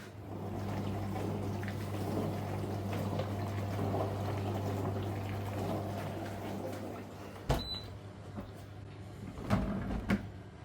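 A COMFEE mini tabletop dishwasher fills with water for a fruit wash, giving a steady low hum with gurgling water, then a couple of sharp clicks and knocks of the unit's lid or parts near the end.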